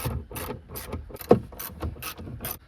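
Screws being removed from a Ford F-150 stereo trim panel with a ratcheting tool, a close series of quick rhythmic clicking bursts with short pauses between strokes.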